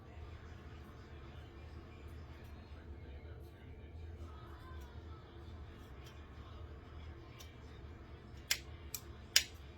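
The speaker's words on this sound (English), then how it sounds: "I'm just going to cut out an oval shape" Scissors cut an oval from folded felt, giving a few sharp, close snips near the end over a quiet room background.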